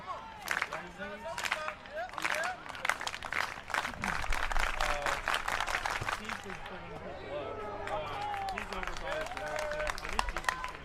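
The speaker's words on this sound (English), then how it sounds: "I think they're responding to the high jump over here. The crowd is." A crowd at an outdoor college conference track and field championship cheers and claps near a jumping event, sustained rolling applause and shouts swelling and easing across the span, with an announcer talking over it.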